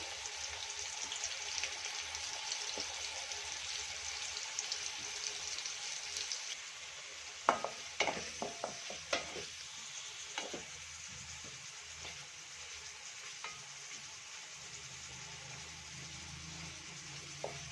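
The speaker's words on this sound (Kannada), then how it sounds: "ನೋಡಿ ಈ ಥರ ಒಳಿಸಿ ಫ್ರೈ ಮಾಡ್ಕೋಬೇಕು. ಸುತ್ತಲೂ ಚೆನ್ನಾಗಿ ಫ್ರೈ ಆಗಿರಬೇಕು." About 100 grams of paneer frying and being turned in a pan: a continuous soft sizzle and hiss, with a cluster of spatula scrapes and taps partway through, no talking.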